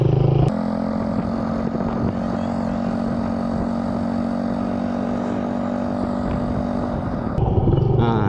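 A motorcycle rides along steadily, its engine droning at an even pitch with wind rush for several seconds before a clatter and a change near the end.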